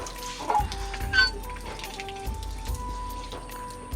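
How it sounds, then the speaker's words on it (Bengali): A traditional village hand pump being worked, with water splashing and pattering steadily and thumps of the pump stroke at irregular intervals, close by with a faint tonal squeak and no clear voice. "তো আমি কল টিপতেছি এবার, গ্রামের কল, ঐতিহ্যবাহী কল।"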